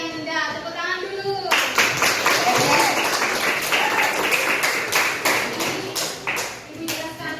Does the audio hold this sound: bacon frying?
no